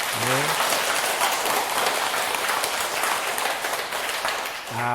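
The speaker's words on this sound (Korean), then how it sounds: "박수 한번 치세요." Audience applause fills the hall for several seconds, a steady dense wash of clapping at a dharma talk by a Buddhist monk, with brief voices at the start and end.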